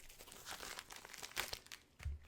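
A mail package is torn open by hand, giving close, soft crinkling and ripping of paper and plastic in uneven bursts, with one sharper tear and a dull thump near the end.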